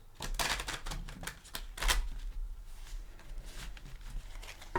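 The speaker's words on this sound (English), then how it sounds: "I will give it a couple shuffles." Quick papery riffling and soft slaps of tarot cards being shuffled, a few brisk bursts close by with short pauses between, no voices.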